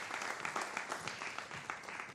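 An audience at a Tamil New Year debate program applauds to welcome a speaker, with steady, dense clapping that stays fairly soft and even throughout.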